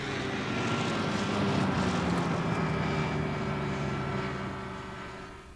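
A light aircraft flying a leg of a 1985 coast-to-coast air rally, its propeller engine droning steadily and fairly loud throughout, then easing slightly toward the end.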